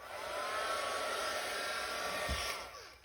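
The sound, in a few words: heat gun blasting painted MDF frame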